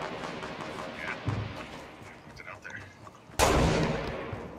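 Gunfire in a shooter video game, a few thudding shots amid game noise, ending in one loud sharp blast that rings out and slowly fades; faint talk sits underneath.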